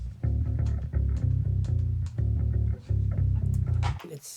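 Nu-metal bass guitar played through a guitar-to-bass preset in a chorus pattern, with loud, heavy, low chugging riffs in chopped rhythmic bursts, played alone and up close.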